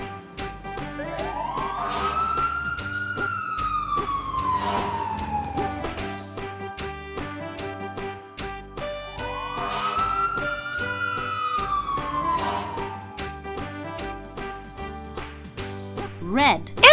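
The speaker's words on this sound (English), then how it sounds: "Red. Fire engine." A red toy fire engine plays its electronic siren, a rising and falling wail repeated twice over a tinkly background jingle, loud and close, ending with a short clatter.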